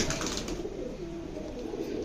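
Karnapura pigeons coo in a low, steady murmur, a continuous soft burbling from several birds close by with no talking.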